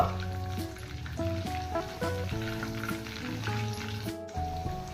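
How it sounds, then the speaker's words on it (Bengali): Battered lotte fish pakoras, turned to their other side, fry in hot oil over a medium gas flame, giving a steady low sizzle beneath background music. "এবার আরেক সাইড ভেজে নেব"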